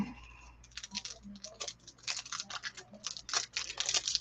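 Close crinkling of plastic or wrapping during a live painting session, a run of quick irregular crackles and rustles that grows busier and denser toward the end, with no talking.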